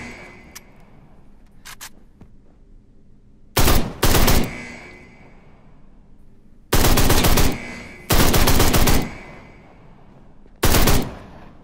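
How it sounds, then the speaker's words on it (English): Harsh video-game gunfire arrives as several loud, abrupt bursts of varying length, separated by quieter background noise. "Harsh gun sound effect."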